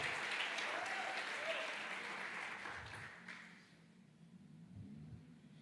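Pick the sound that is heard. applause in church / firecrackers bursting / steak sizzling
applause in church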